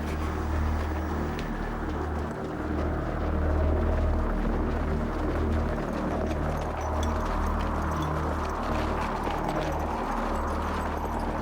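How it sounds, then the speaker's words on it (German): Rhythmic clip-clopping of horse hooves over a heavy low rumble, steady and continuous throughout, fairly close and loud. "Der da auf dem Pferd ist Zupik"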